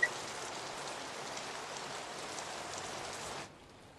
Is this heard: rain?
yes